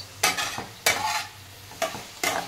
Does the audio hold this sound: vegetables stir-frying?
yes